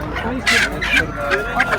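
Roosters at a busy poultry market in Kırıkkale, Turkey, with several loud, bright crowing bursts repeating close by over a background of market chatter and voices.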